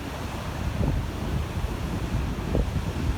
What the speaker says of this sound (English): The sea's really rough and violent today. Some big old waves out there.